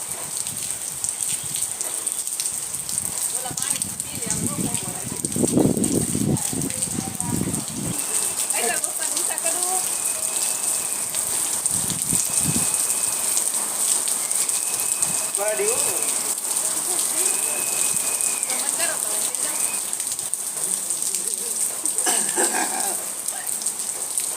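Steady rain hisses down loudly, with people talking now and then underneath the constant downpour.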